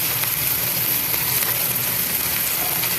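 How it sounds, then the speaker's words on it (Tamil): Garlic and onion sauté together in a pan for Tamil-style onion rice, giving a steady, dense sizzle of frying at close range with no talk over it. "இப்போ இந்த பூண்டையும் வெளியே போட்டுருந்தாங்க அப்படியே வெங்காயத்தோட சேர்த்து அப்படியே வதங்கிட்டு ஆகும்"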